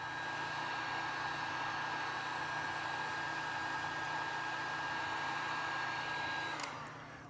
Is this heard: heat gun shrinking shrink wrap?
yes